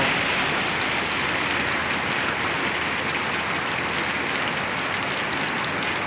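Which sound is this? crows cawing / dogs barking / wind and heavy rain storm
wind and heavy rain storm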